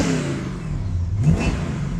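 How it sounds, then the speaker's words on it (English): A 1951 Chevy custom's 383 stroker V8 revs up and settles, a steady mid-pitched mechanical drone with a brief rise in pitch partway through, close and fairly loud. "Listen how fast that motor revs."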